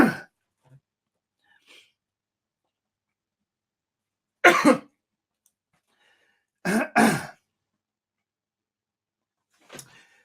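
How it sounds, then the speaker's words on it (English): Someone in a quiet room goes through a coughing fit: an opening cough, a sharp double cough midway, another paired burst soon after, then a softer final cough, with near-silence between. "just having a coughing fit"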